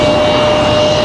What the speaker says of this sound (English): So with the CRJ starting up,